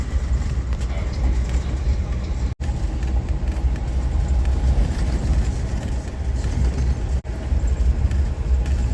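Amtrak Crescent passenger train riding behind a levee near Lake Pontchartrain, heard from inside as a continuous loud low rumble with steady rolling noise, with two brief dropouts.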